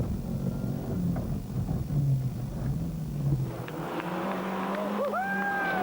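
Heard from onboard, a Mitsubishi Lancer Group N rally car at the 1995 Rally of Portugal drives hard with a loud engine drone and rising revs, gear changes and road rumble throughout.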